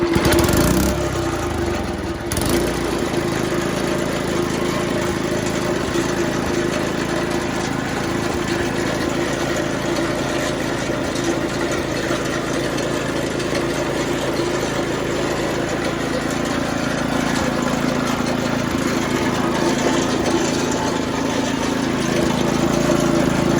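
The petrol engine of a grinding machine catches after a rough start, then runs steadily near and loud, with a constant drone and slight shifts in pitch as it settles.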